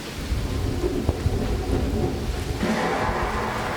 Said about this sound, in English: Right, now we are properly in the rain.